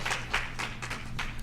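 A church congregation applauds during a worship service, a brief burst of many hands clapping in a dense, steady patter with a low hum beneath it.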